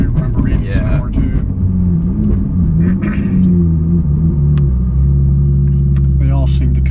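Supercar engine rumbling steadily as the driver downshifts, a deep continuous drone with shifting pitch heard close inside the cabin, with people talking over it.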